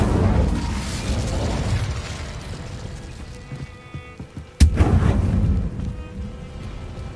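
A fire spell cast in the video game Hogwarts Legacy: a sudden sharp burst near the middle, followed by a roaring whoosh over a rumbling game soundscape.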